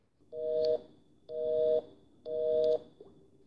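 A telephone busy signal after a call ends sounds as three evenly spaced, steady beeps of about half a second each, clean and moderately quiet, with no talk.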